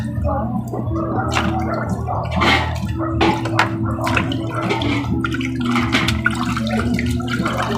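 Washing water from freshly rinsed sweet potatoes being poured out outdoors, a continuous close splashing and gurgling rush with scattered drips and spatters, without speech.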